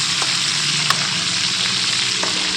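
Masala-coated aila fish fries in hot oil with a loud, dense, unbroken sizzle up close, a couple of small pops rising above the hiss and no one speaking.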